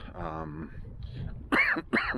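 Two sharp, loud coughs close by, following a stretch of quieter voiced sound.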